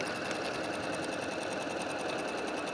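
Sewing machine stitching William Morris tapestry fabric, a steady, fast, even whirring hum with a regular mechanical needle rhythm running continuously and close.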